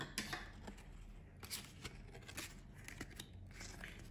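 Scissors snip through a paper template for a magician's card box, a close, dry run of short cuts and crisp paper rustles with irregular rhythm, no talking.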